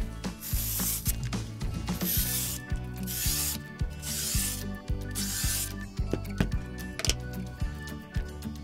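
A julienne peeler shreds a cucumber into thin strips with a quick, steady run of rasping scrape strokes, close up, without talk.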